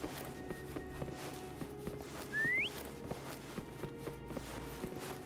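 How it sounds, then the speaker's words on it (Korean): A short rising whistle in a video game sounds once over steady footsteps and a low ambient background. "휘파람으로 파움을 불러보시겠어요?"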